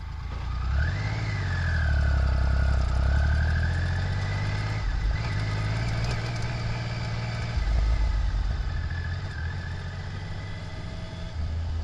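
A 1993 Triumph Tiger 900 motorcycle pulls away and rides along the road, its engine note rising and falling through gear changes, loud and close, with steady wind and road noise under it.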